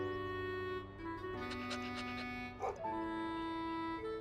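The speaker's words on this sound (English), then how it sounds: "Arf, arf. Woof, woof. Oh, doggies!" Dogs barking and yipping in Trails Beyond the Horizon, a few short barks in a burst near the middle over steady game music, moderately loud.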